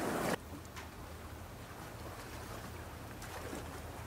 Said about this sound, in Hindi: समुद्र किनारे